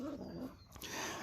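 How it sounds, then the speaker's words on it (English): Dogs behind a home garden give a short growling bark, close and fairly loud, then fall quiet. "some entertainment from dogs barking behind him"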